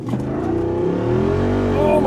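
A Jeep Wrangler 392 Final Edition accelerates at full throttle, its engine roaring loud and close with a steadily climbing pitch as the revs build.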